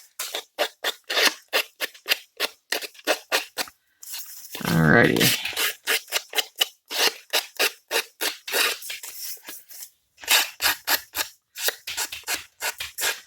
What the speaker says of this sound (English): Since I already started with the scissors, I'm gonna continue with the scissors.